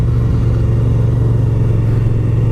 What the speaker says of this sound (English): Look at all these bikes.